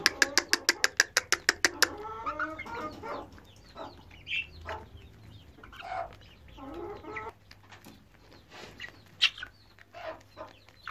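Young Ameraucana chickens and a rooster on a farm: a rapid run of sharp, loud clucks opens, followed by scattered softer clucks and squawks from several birds close by, with a faint voice in the background.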